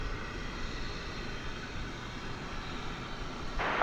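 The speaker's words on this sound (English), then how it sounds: "That is a Martinair cargo plane." A Martinair cargo plane, a Super Cargo Master bound for Abilene, Texas, at DFW Airport, gives off a continuous broad jet roar, steady and fairly distant, with no voices.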